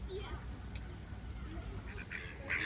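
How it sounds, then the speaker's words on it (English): Ducks near a zoo in Novosibirsk, Russia, give a few faint quacks amid low rumbling outdoor background noise, with the calls more noticeable toward the end. "These ducks have lived so long near the zoo that they want to be put in cages and fed."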